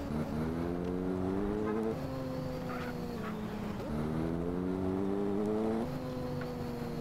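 A Honda CBR motorcycle in the GTA video game accelerates with a loud, steady engine drone whose pitch climbs in repeated sweeps, dipping briefly between gears before rising again.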